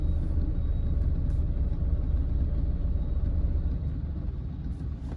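A Mahindra XUV 300 idles in neutral while stopped at a signal, giving a steady low engine rumble with faint road noise that holds throughout.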